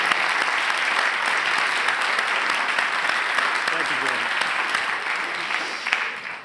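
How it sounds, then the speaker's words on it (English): A forum audience gives sustained, even applause for an organizing team, dense clapping that holds steady and tapers slightly near the end. "just to give John and his team a round of applause for pulling this together"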